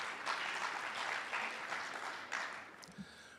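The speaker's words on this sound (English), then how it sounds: "Can you give them a very big round of applause?" Sustained applause from a crowd at an education department provincial meeting, a steady wash of clapping that gradually thins toward the end.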